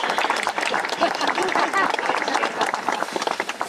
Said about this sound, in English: let's also give a round of applause to Kavik for all he's given to this world.